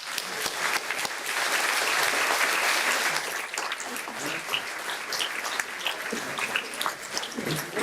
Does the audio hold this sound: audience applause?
yes